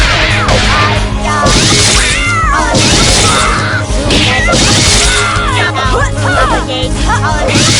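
Cats meow repeatedly in the Skullgirls fighting game, loud pitched yowls amid hits, crashes and whooshes, with character voices over the action.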